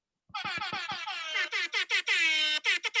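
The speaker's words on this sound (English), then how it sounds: "let me get the air horn ready." Rapid series of loud air horn blasts, some short and choppy, others held longer, sounding close and piercing.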